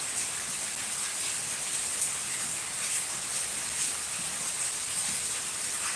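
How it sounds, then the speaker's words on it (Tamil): Heavy rain pours down steadily, a dense, even hiss of drops close by with no letup and no voices. "செம்ம மழை அடிச்சுக்கிட்டு இருக்கு"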